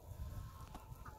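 Chickens kept on a small backyard egg farm cluck softly at a distance, with faint background murmur and noise around them.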